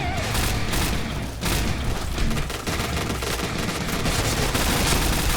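An MP7 submachine gun fires nearly nonstop in the shooter Point Blank, its rapid rattling bursts loud and dense with brief pauses and occasional thuds mixed in.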